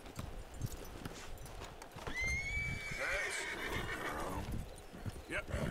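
A horse in the Red Dead Redemption 2 video game lets out a long, loud whinny that rises and trails off, with clip-clopping hooves underneath and someone talking during it.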